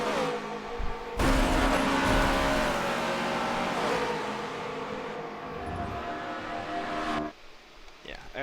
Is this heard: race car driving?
yes